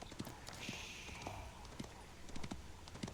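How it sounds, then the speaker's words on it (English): Scout cavalry hooves from the Age of Empires video game, a horse galloping across the map: quick, light clip-clop beats scattered over a busy game-sound background, moderately loud and without talk. "there is Owen's scout running past the boar"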